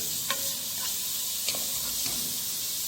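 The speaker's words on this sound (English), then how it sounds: "we are going to add chopped onion. We will stir it and continuously till the time onion gets translucent." Chopped onion sizzles in a hot pan while a spoon stirs it, the steady hiss broken by a few distinct scraping strokes at intervals, close and fairly loud with no talking.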